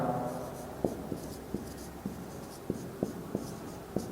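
Chalk or a marker taps and scratches on a board at an irregular pace in about ten brief strokes, close and moderately loud over a soft room hum, while the definition for an organic chemistry lecture is written out.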